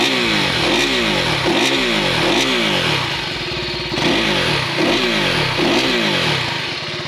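A 2024 KTM 390 Duke motorcycle engine with an underslung exhaust revs up repeatedly in steady cycles, loud and close, with a deep, hollow snarling intake sound rising and falling at each rev.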